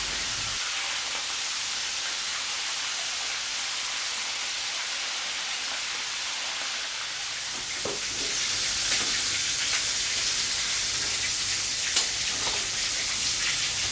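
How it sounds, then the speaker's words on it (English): Shrimp deep frying in a batch of hot oil, a steady dense sizzle and crackle that fills the scene without pause and grows slightly brighter partway through. "It is advisable to deep fry the shrimp in batches."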